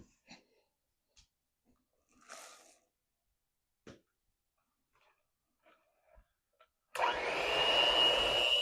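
An electric mixer whirs on, mixing double chocolate zucchini bread batter; after a few quiet clicks and rustles, the steady loud motor drone starts abruptly and runs continuously to the end.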